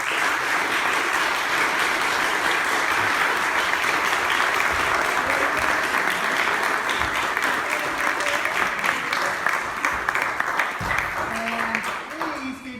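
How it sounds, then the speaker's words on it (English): Steady audience applause at a Waldo County candidates forum carries on for over twelve seconds, with faint voices and cheers mixed into the clapping near the end. "Yourselves another round of applause."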